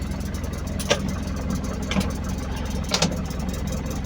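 The engine of a vehicle being converted into a camper van runs steadily at idle, with a few brief throttle blips rising about once a second.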